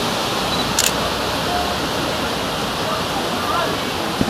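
Water rushes through old mill arches and pours over a two-metre drop, a loud, continuous broadband roar like a waterfall, with a brief click and a faint sound of talk.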